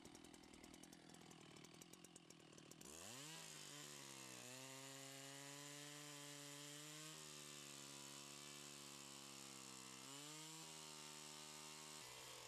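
A chainsaw idles briefly, then revs up and bites into a tree trunk during felling, its loud droning engine rising and falling as it cuts.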